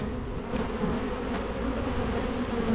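Honey bees in an open Langstroth hive, a steady dense buzz of many insects close by with a few individual bees droning past, no voices.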